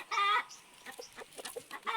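A rooster clucks and squawks nearby, with a loud opening call followed by softer, irregular clucks.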